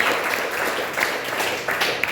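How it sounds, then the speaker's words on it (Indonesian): A church congregation at a Sunday worship service at GBI Kupang Praise Center breaks into sustained applause, a dense, even wash of many clapping hands filling the hall. "Tepuk tangan untuk Tuhan."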